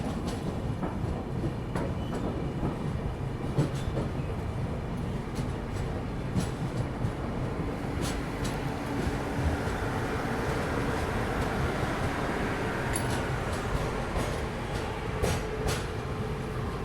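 Avadh Express led by a Vijayawada-shed WAP-7 locomotive standing at platform 2 of Nagda Junction, a steady rumbling rail hum with faint clatter and occasional higher clanks, continuous and moderately loud throughout.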